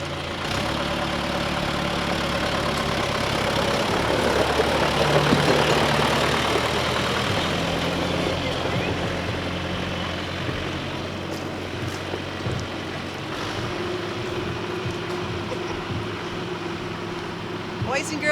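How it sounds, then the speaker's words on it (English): A John Deere tractor engine idles steadily with a low, throbbing drone that carries through the whole stretch, and a voice is faintly audible beneath it. "that's a John Deere tractor"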